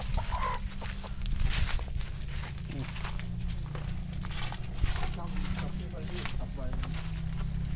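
Chickens cluck repeatedly nearby on a farm, mixed with footsteps and people talking in the background.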